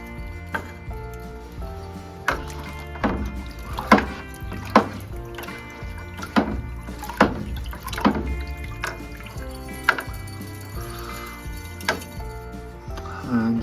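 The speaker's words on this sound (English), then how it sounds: "So we'll just take it out and give it a good rinse." Motorcycle parts from a 1972 Triumph Bonneville restoration get a rinse under running water after a 15-minute soak before plating. Irregular splashes and drips sound over a steady background tone.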